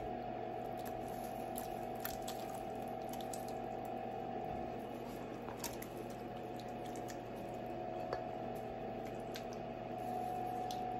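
Canned sauce is poured over refried beans for a freezer meal, giving soft wet squishing and dripping sounds close by over a steady background hum, with no talk.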